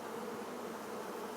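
Honey bees in a foundationless Flow Hive brood box during a frame inspection: a dense, even buzzing swarm heard close up and steady throughout.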